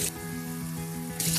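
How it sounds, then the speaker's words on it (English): Cold water runs from a tap over sprouts being rinsed in a strainer, a steady close trickle and splash lasting a moment, with no voices. "give them a good rinse, strain away the soap water and rinse them well under the cold tap"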